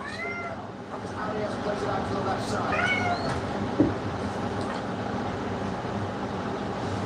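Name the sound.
cat meowing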